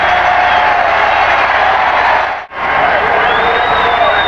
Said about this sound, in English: and the crowd whoops it up